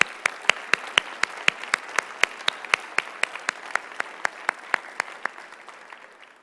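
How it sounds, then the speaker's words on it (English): Applause from an audience at a talk on resilience, heard as crisp, evenly spaced claps in a steady rhythm that stays fairly loud and close throughout, with no voices over it. "you must join me in applauding your work, because you deserve it"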